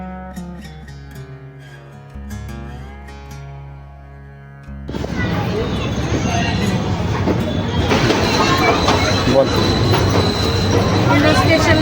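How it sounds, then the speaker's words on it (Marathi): An Indore-bound train stands at a platform of Ujjain station; after a few seconds of music, loud continuous rumble and platform noise take over and build toward the end. "7 नंबर प्लॅटफॉर्मवर इंदोरला जाणारी ट्रेन उभी होती."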